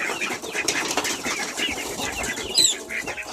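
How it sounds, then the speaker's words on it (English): A cardinal trapped indoors beats its wings in quick, fluttering bursts, with faint chirps and rustling nearby and no talking. "Oh, there's a bird trapped in there."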